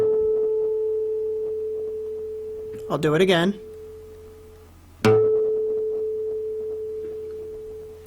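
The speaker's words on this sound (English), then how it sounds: "I'm going to play a harmonic on the guitar" A guitar harmonic rings as a pure, sustained tone that slowly fades. A person briefly speaks, then the harmonic is plucked again sharply and rings on steadily.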